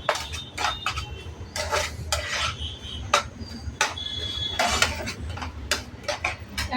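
A spoon scrapes and clinks against a pan while semolina and raisins are stirred together for a mango sheera, giving irregular bursts of metallic scraping and ticking over a low background hum.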